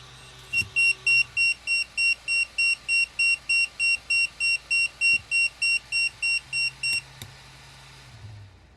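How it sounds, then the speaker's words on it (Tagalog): An FX35 battery capacity tester's buzzer beeps in a fast, regular series of about twenty sharp tones, loud and close, then stops, leaving faint background noise. "hindi titigil talaga itong buzzer na to hanggat hindi natin pipindot ulit yung on tsaka off"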